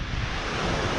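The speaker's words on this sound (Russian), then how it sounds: "Ветер сильный." Strong wind buffets the microphone on the wild Gulf of Finland shore near Martyshkino, a steady roaring rush that fills the whole second with no talking.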